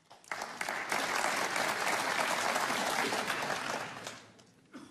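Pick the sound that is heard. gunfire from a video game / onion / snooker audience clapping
snooker audience clapping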